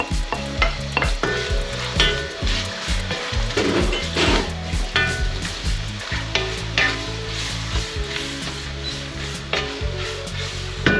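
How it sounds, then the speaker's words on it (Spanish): Vegetables and chili pepper fry in hot oil in a pan for an oxtail stew, a loud steady sizzle broken by repeated stirring scrapes and clatters throughout, with no voices. "Dejamos que la guindilla suelte el pique y automáticamente añadimos la verdura"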